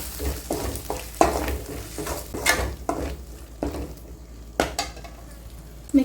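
Ground spinach paste stirred and fried in a pan, with sizzling under a series of sharp spoon scrapes and knocks against the pan at an uneven pace, close and fairly loud.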